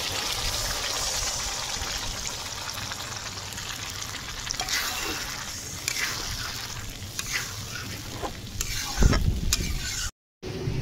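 Cornflour slurry poured into a pan of frying rice and paneer, with a steady close sizzle and stirring scrapes throughout, a brief liquid pour near the end before the hiss resumes.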